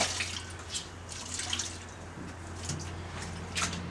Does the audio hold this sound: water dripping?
yes